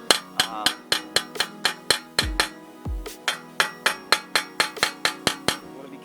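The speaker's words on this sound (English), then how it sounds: "we're gonna take a hammer and we're gonna knock exactly where that screw is" Hammer strikes knocking on a screw on a 2009 Acura TL brake assembly to loosen it, roughly seventeen sharp metallic blows in a steady rhythm, loud and close with no talk.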